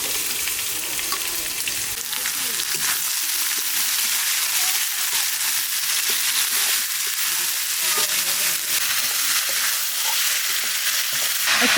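Onions with garlic paste, cinnamon, cloves and black cardamom fry in hot oil, giving a steady, close, loud sizzle and crackle throughout with occasional stirring scrapes and no voices.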